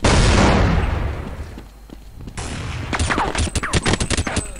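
Gunfire in the video game Counter-Strike 1.6: a loud blast decaying over a second, then a short lull followed by a rapid burst of sharp repeated gunshots, close and loud, with no talking.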